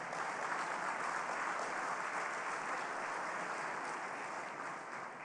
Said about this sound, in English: So let's start with a round of applause for that.